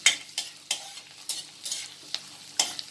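Ginger and green chili fry in a pan for South Indian lemon rice, with a bright sizzle and a run of sharp spatula scrapes and stirs at an uneven rhythm.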